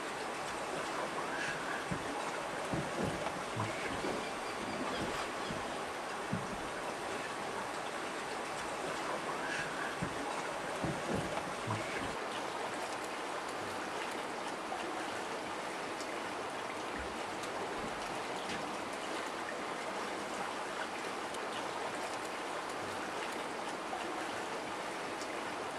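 A river flows steadily with a constant, fairly loud wash of rushing water and faint splashes, with no one talking.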